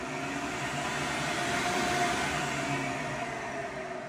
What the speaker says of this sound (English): You can vary the speed of the vacuum.